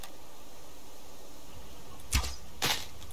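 A bow fires an arrow at a chicken in the survival game Subsistence, with two separate sharp thwacks and whooshes about half a second apart over a quiet background.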